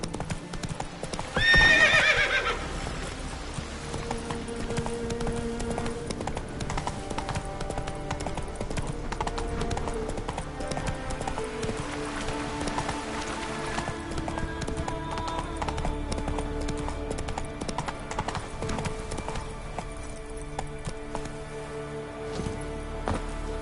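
Roach the horse gallops through Skellige in a video game, steady clip-clop hoofbeats running throughout with a whinny near the start over layered game ambience and music.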